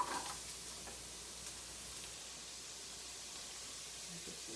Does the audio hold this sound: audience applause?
no